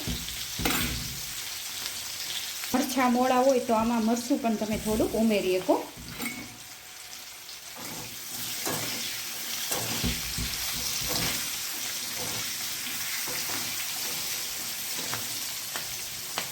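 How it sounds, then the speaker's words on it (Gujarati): Green chillies frying slowly in a pan on a low gas flame, a steady soft sizzle running throughout while someone talks over it for a few seconds near the start. "આવી રીતે આપણે તળવા દઈશું ધીમા ગેસે।"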